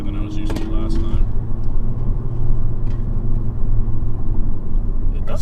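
A 2020 Honda Civic Si driving in sport mode, with a steady low engine and road rumble inside the cabin under people talking.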